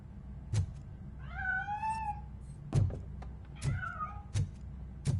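A cat meows twice, clear and close, with rising and falling wavering cries, amid soft ambient rumble and a few sharp thuds in the RoboCop: Rogue City video game.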